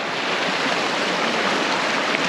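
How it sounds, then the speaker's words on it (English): Snow Lake Creek in the Gila area flows with a steady, dense rush of water, broadband and continuous at close range, with no pauses and no voices over it. "This is the Snow Lake Creek"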